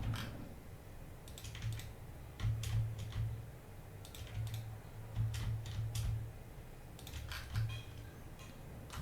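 Someone types on a computer keyboard in quiet bursts of rapid clicks separated by short pauses over a faint low hum, with no voices.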